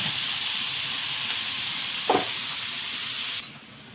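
Kohlrabi and potato go into a hot pan with shrimp, salt, turmeric and green chili, raising a steady loud sizzling hiss with one brief bump partway through before the sizzle drops away near the end.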